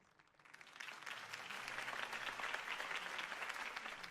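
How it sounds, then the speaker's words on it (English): Crowd applause at a political campaign rally for Harvey Dent in the Batman Telltale video game, swelling up after a quiet start into steady, moderately distant clapping. "If only Mr. Wayne, my campaign's largest backer, could have heard that applause"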